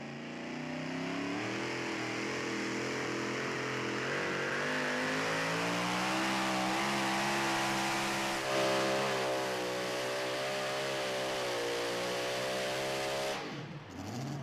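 Super modified two-wheel-drive pulling truck engine at a truck pull in Saluda, SC, roaring loudly and steadily for the whole pass with rising revs, then cutting off abruptly near the end.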